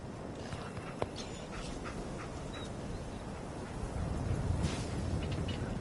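Dogmeat, the dog companion in Fallout 4, gives faint, soft whimpers and snuffles over low ambient background, quiet and intermittent.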